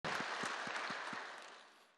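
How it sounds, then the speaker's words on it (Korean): A church congregation breaks into warm, sustained applause at the close of worship, a dense nearby clatter of many hands that slowly fades toward the end. "우리 예배 받으신 하나님께 감사의 박수 드리겠습니다."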